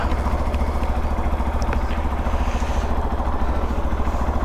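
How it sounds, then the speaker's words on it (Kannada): A Hero XPulse 200 4V motorcycle engine cold starting in the morning, idling steadily with a continuous low throb and fine rhythmic pulsing throughout, close and fairly loud with no talk. "ಬೆಳಗ್ಗೆ ಗಾಡಿ ಕೋಲ್ಡ್ ಸ್ಟಾರ್ಟ್ ಮಾಡೋದ್ರಲ್ಲಿರೋ ಮಜಾ ಬೇರೆ ಯಾವುದ್ರಲ್ಲಿ ಇಲ್ಲ"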